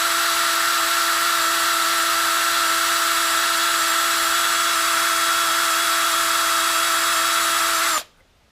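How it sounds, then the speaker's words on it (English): A power drill whines at a steady high pitch for about eight seconds while drilling into metal on a Farmall Super M tractor engine, loud and close, then stops abruptly into near silence. "I'm going to do some drilling and stuff and see if I can get that nut off of there."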